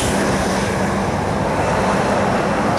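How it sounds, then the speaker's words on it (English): A passing tractor in rural Virginia gives a steady, loud engine rumble filling the whole stretch, a broad continuous roar with no talk, close by. "Sorry about the noise, but the occasional tractor goes by."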